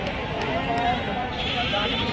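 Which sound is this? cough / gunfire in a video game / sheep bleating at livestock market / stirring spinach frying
sheep bleating at livestock market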